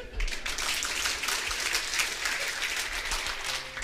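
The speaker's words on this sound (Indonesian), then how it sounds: "Anda tepuk tangannya belum menghargai mereka." Dense, steady applause fills a church service at close range, a continuous wash of clapping lasting about four seconds with no clear speech over it.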